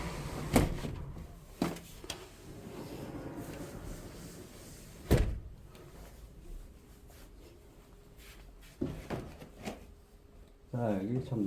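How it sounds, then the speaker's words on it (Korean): A door is shut at a holiday pension in Sokcho on a windy day while the room is being tidied after checkout. Several sharp knocks and thuds come over a low background, with a louder bang near the middle and rustling toward the end. "바람이 좀 불어서 일단은 문을 닫아야 되겠습니다."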